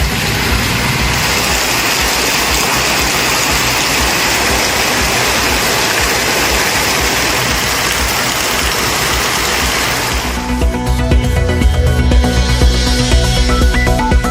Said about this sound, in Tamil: கடலூர் மாவட்டத்தில் மீண்டும் கனமழை பெய்ததால் மக்கள் அச்சம்.